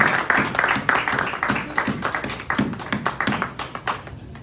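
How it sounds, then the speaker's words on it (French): A church congregation claps along in a steady rhythm at a celebration service, the sharp, evenly spaced hand claps filling the room with a few voices faintly beneath. "Let's clap for the Lord."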